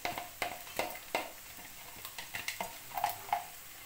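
Green chilli paste going into a pan for methi matar malai, stirred with a utensil: a string of sharp scraping and tapping strokes at a steady rhythm over a soft background sizzle, close and fairly quiet, with no talking.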